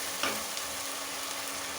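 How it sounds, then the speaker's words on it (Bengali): Duck egg curry frying in a pan, a steady sizzle with a brief clink and scrape of stirring near the start, close and moderately loud, no talk. "এটাকে ভালো করে কষিয়ে নেবো আমি।"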